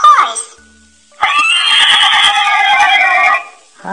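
A talking flash card toy plays a recorded horse neigh, a loud drawn-out whinny in the middle, framed by brief electronic voice snippets at the start and end.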